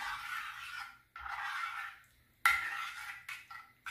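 Sauce mixture being stirred in a long baking dish for stuffed potatoes, two stretches of soft scraping swish separated by a pause, then a sharp utensil clink against the dish followed by further light stirring, close and moderately quiet.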